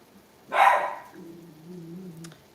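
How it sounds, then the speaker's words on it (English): A dog lets out a single loud, close bark, followed by a low, drawn-out whine or grumble that fades. "Don't bark."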